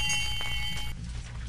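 A hand bell rung to call a servant, a few bright metallic rings near the start that fade into a room's low background hum, with no speech.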